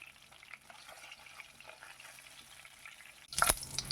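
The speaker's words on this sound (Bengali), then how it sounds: "আমি সব মাছগুলোকে তুলে নিচ্ছি" Pieces of bhetki fish frying in hot oil give a faint, steady sizzle with no talk. Near the end, a short, louder crackling burst comes as the fried pieces are lifted out.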